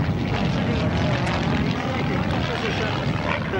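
A roaring aircraft engine fills the air as an aerobatic plane flies overhead at a 1991 RAF Valley airshow, loud, continuous and close throughout.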